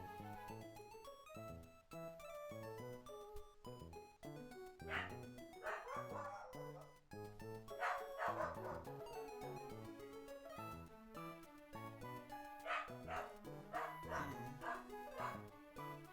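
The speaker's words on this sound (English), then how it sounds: "Dang, this dog's going crazy right now." A dog barks repeatedly in irregular bursts, some yips and whimpers among them, at moderate distance, mixed with other indoor sounds.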